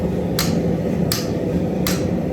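Three sharp, evenly spaced hammer strikes ring out on hot steel while an axe is forged, each a bright metallic crack standing out over a steady background hum.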